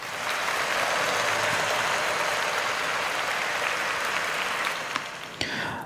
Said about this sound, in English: let's clap it up for all of that amazing content